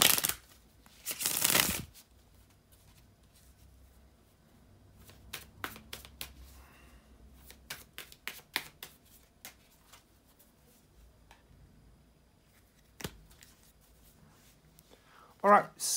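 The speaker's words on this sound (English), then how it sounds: "bear with me just a second, guys, to shuffle the tarot cards" Tarot cards are shuffled in a loud riffle burst, then softer scattered flicks and taps of handled cards follow, close up and otherwise quiet.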